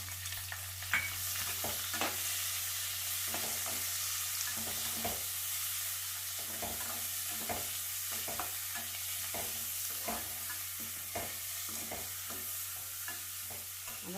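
Onions fry in ghee for ghee rice, sending up a continuous sizzle while a spoon scrapes and taps the pan repeatedly, close and fairly loud, with a low steady hum underneath.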